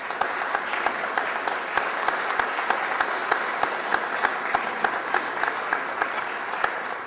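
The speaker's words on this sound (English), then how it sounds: "everybody needs to give a round of applause to the board of directors of the Oakmont Firehouse" A crowd at an Oakmont Firehouse gathering breaks into sustained, dense applause that rolls on steadily for several seconds, with sharp individual claps popping out above the wash of hands.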